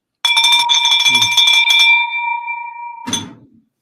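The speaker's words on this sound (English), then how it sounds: "So Ring that bell. Ring that bell." A bell rung during a real estate Q&A session, striking twice with a bright, sustained metallic ring that decays slowly, loud and close, with brief voice and cheering at the end.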